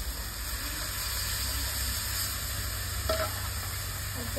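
Tomato paste stirred in a frying pan of hot oil with ground coriander and red chilli powder, steady close sizzle with scraping stir sounds throughout, no talking.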